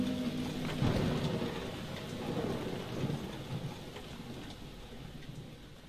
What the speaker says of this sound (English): the skies are sad because they are really crying. Raining over all the umbrellas here